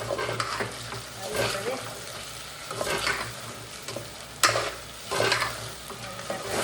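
Potato chips being stirred in a pan with salt and garam masala, soft frying sizzle under repeated scraping stir strokes in uneven bursts, no voices.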